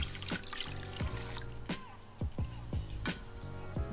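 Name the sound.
water poured into pot for cooking rice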